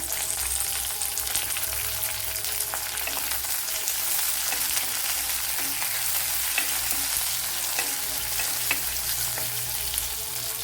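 Chillies sizzle in hot oil in a pan, a steady close crackle with small pops running throughout and no voices.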